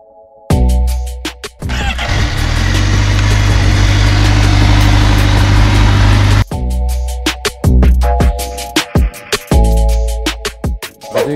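A Honda CBR1000RR-R SP motorcycle engine revs in sharp, rapid bursts, then holds a loud, dense roar for several seconds before dropping back to crisp throttle blips, all close and without talk.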